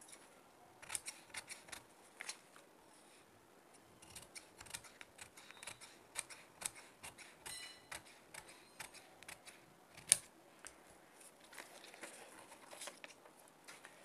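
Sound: scissors cutting cloth

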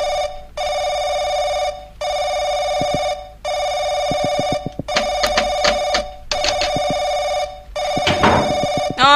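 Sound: telephone ringing at night in video game Paranoiac

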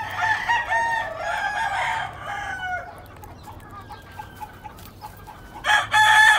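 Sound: Lacy Roundhead gamefowl rooster and hen crowing and clucking

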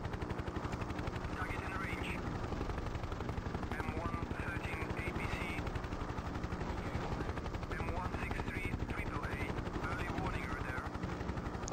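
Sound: Mi-24 Hind helicopter flying in the video game Hind

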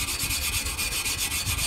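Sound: scraping rust off an old metal tree-stand climber

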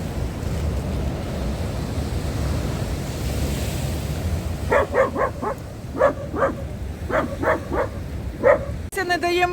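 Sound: dog barking

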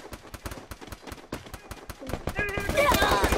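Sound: gunfire in the video game Free Fire

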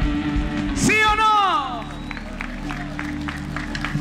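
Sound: audience applause in church

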